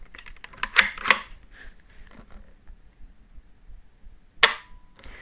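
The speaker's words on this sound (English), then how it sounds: "Take the weapon off safe, place it on the fire, and very, very nice trigger pull." Dry-fire clicks from a Ruger 10/22 Tactical rifle fitted with a Ruger BX-Trigger: a few sharp mechanical snaps close up, two near the start and one more after a quiet pause.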